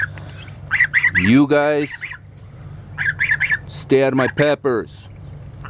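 Birds, goose- or fowl-like, squawk and honk loudly and close by in a pepper patch in an Arizona homestead garden, in repeated harsh bursts while a person speaks over them.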